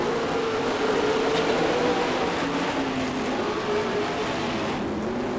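Race car engines drone loudly and continuously as cars circle the track, their pitch rising and falling slightly as they run close together, with no talking.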